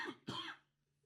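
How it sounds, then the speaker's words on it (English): One person lets out a quick double cough, a short husky burst followed by a louder one close to the microphone, and then it goes quiet. "I had to cough so bad"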